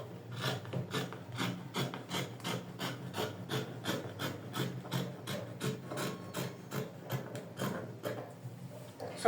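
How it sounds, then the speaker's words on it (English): Scissors cutting the neckline of a bubu dress in fabric, giving a quick, even run of rasping snips, close and fairly soft, with no talking. "So I can cut out the neckline now."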